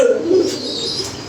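A pigeon coos close by, one short throaty call opening the moment, followed by soft airy background noise.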